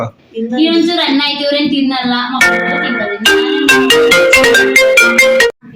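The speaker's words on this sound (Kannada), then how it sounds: "ನೋಡಿ ಗೈಸ್ ಯಾರ್ದು ಫೋನ್ ಬಂತು" A mobile phone ringtone plays loud and close: a sustained tonal phrase gives way to a rapid run of bright, clipped melodic notes that stops abruptly.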